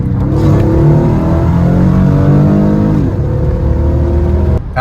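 A Mercedes with a tuned 5-speed automatic in sports mode drops a gear at 40 mph, the engine note rising and holding in a loud, sustained rev before the pitch shifts near the three-second point.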